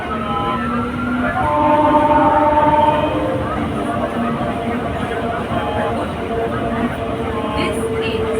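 A local train rolls at Kolaghat station, a broad steady rumble of wheels and carriages with faint whining tones drifting in and out, close and continuous throughout.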